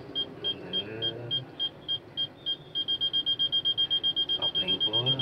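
A car's reversing alarm beeps at a steady pace during a driving lesson, then speeds up into rapid continuous beeping as the car nears an obstacle, with engine noise and a voice talking underneath.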